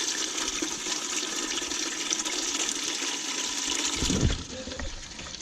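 Water rushes steadily into a 22 litre bucket in a creekside camp, a loud continuous splashing flow that swells and then tapers off near the end.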